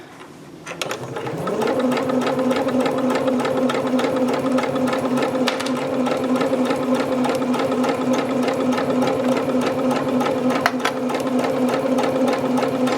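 A sewing machine stitches fabric lining for a round bag, starting after a brief pause and then running as a steady, loud, close mechanical whir with rapid needle ticking to the end.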